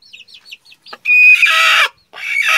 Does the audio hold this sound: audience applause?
no